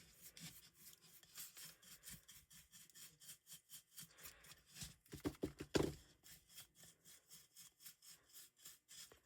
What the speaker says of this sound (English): But the chip brush is nice because it's stiff and it gets into all those nooks and crannies.